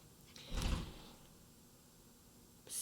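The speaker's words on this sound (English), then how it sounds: "Somebody closed the door rather loud." A door shuts with one loud thud and rattle in a quiet room, followed by near silence, then a second, fainter knock or click at the end.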